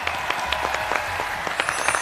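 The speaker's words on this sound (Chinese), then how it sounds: "我们再次把掌声送给谢思" A studio audience on a Chinese job-interview TV show applauds an aerial silk performer, with steady, dense clapping throughout.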